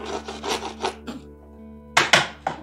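A scraper dragging through saturated sealant around a skylight hole: a few rough back-and-forth scrapes, a short pause, then three sharper, louder strokes, heard close up over a steady low hum.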